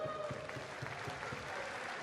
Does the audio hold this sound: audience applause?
yes